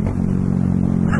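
A Bajaj Dominar 400 motorcycle fitted with an Akrapovic R11 exhaust idles with a deep, steady, loud burble, the low engine drone running continuously with no voices over it.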